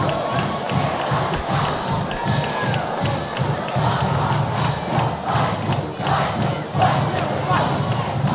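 A homecoming crowd at a high school football game roars and cheers after a touchdown pass, with loud sustained shouting, scattered yells and thumps from the stands.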